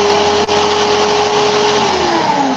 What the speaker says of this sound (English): put my drill in reverse, and loosen.